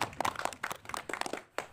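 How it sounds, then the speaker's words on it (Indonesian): A classroom of students gives a short, scattered round of clapping after classmates answer questions in a lesson; the claps are sparse and irregular, moderately faint, and fade out within a couple of seconds. "Oke, beri tepuk tangan untuk semuanya ya."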